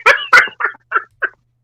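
A person's voice imitates a duck quacking, giving five loud, nasal quacks that come quickly one after another and grow shorter and fainter toward the end.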